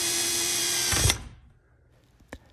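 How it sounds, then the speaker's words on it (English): A power drill with a 3/16 inch bit drilling into a wall for a pegboard install, a loud steady whine for about a second that cuts off abruptly, then quiet with a brief knock. "we went through with our drill, and this was just a 3/16 inch one, and just drilled everywhere"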